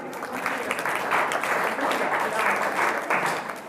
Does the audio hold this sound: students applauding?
yes